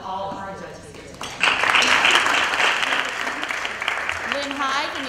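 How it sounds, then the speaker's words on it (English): An audience at a nonprofit awards ceremony breaks into applause for the judges after someone speaks, the clapping swelling loud and sustained, with talk returning as it fades. "So let's give a round of applause to all of our judges here today."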